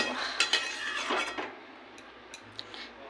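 Spoon scraping and clinking in a pan as potol paneer, a pointed gourd and paneer dish finished with ghee, is stirred with the gas off; a few light metallic taps and scrapes close by, then quieter.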